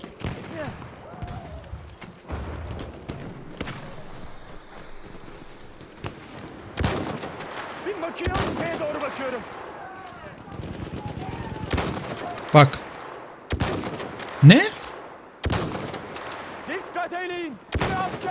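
Battlefield 1 castle-siege gunfire on PS4, with bursts of automatic fire and single shots cracking through a busy battlefield din, several loud close volleys toward the end, while players talk and laugh over it.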